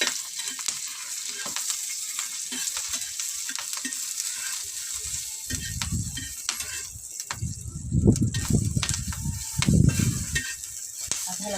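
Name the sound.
frying in oil in a pan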